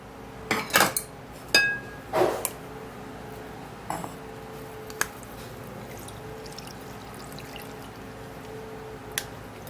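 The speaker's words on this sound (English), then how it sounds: "I'm actually gonna be straining that out" A cayenne pepper drink is strained through a kitchen strainer: a cluster of metallic clinks and scrapes in the first few seconds, then a faint trickle and a few isolated taps in a quiet room.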